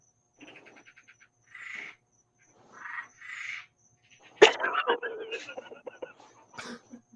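Frogs croak in short pulsed bursts and longer rasping calls, spaced out at first and then crowding together, with a human voice mixed in among them.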